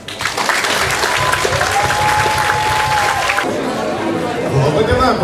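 Audience applause fills a school graduation ceremony hall, steady and loud throughout, with crowd chatter mixed in and a voice over a loudspeaker partway through.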